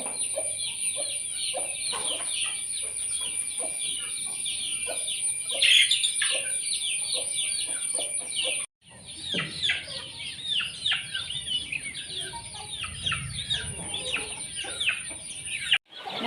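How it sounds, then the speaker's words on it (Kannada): Native country chickens cluck steadily inside a farm coop, many birds layered close together in a continuous busy chorus with occasional sharper calls. "ಎಲ್ಲ ಕೋಳಿಗಳನ್ನು ಹೊರಗಡೆ ಬಿಡಲಿಲ್ಲ ನಂತರ ಎಲ್ಲ ಇವುಗಳಿಗೆ ಫುಡ್ ಹಾಕಿ ಹೊರಗಡೆ ಬಿಡ್ತೇವೆ"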